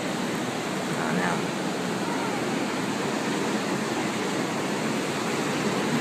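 Strong wind and ocean surf on a beach during Tropical Storm Debby, a continuous loud rushing roar of gusts and breaking waves with no clear gaps.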